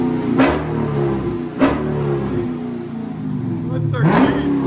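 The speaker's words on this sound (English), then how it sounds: "Rev it again." A lowered car's engine revs hard three times in short bursts, each rising and falling away over a steady idle rumble, with people talking nearby.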